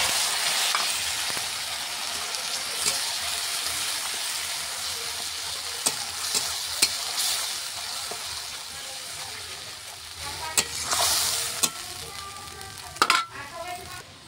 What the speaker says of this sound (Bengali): দেখো মশলাটা এখন কষে নিচ্ছি।